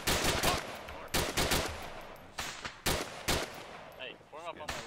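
Bursts of gunfire in the video game Arma 3 crack in quick volleys, separated by short pauses, with a faint voice-like tone near the end.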